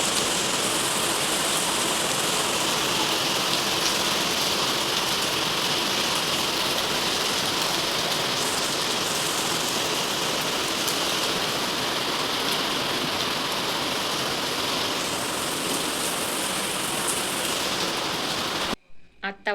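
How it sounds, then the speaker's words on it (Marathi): Heavy rain falls steadily and loudly on a rainy monsoon afternoon, a dense unbroken hiss that continues almost unchanged before cutting off abruptly at the very end. "आमच्याकडे खूप जोराचा पाऊस येतोय."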